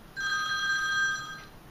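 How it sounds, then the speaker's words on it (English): An electronic phone ringtone sounds once as a steady, bright tone lasting over a second, close and clear, then cuts off into quiet room hiss with no voices. "your phone will ring with a message from myself"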